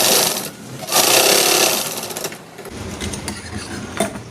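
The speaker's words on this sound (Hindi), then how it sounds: "अब इस पर हम सिलाई लगा देते हैं इस तरह से।" A sewing machine stitches a boat neckline on fabric, its motor whirring loudly and close in bursts that pause and restart, with a short rattling stop near the end.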